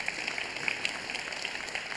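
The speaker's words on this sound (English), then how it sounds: "let's give these startups another huge round of applause" An audience at a startup pitch showcase gives the founders a round of applause: a dense, continuous wash of many hands clapping, heard from a distance in a large room.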